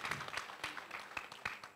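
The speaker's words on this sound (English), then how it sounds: "I think we deserve a round of applause." Audience applause at a launch event in Nigeria, steady clapping with sharp individual claps over about two seconds, fairly faint and distant-sounding.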